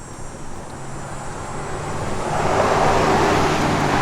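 A 1964 Ford Falcon Sprint pulling out and driving off, its engine and road noise swelling from a low rumble to a louder, broad roar as it accelerates away.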